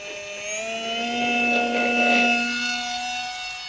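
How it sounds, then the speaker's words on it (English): Propeller of an Esky Eyas RC plane whining in flight, a sustained high-pitched tonal scream that swells and fades slightly as the plane passes. "you can live with this screaming prop noise"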